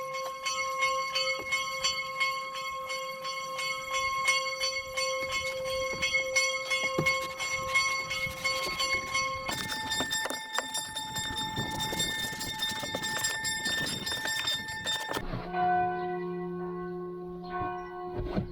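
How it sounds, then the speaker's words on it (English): Church bells ring continuously in a long, overlapping peal, shifting to different pitches partway through and ending on lower tones, moderately loud and heard alone with no talking. "I hear a lot of bells."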